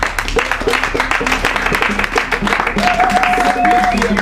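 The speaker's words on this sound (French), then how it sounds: "Alors on applaudit le Seigneur" A church congregation applauds in dense, continuous clapping, with voices calling out and a shout rising above it.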